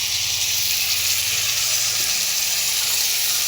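Spices frying in a pan hiss and sizzle loudly and steadily after a splash of water, a dense close steam-like crackle with no talk.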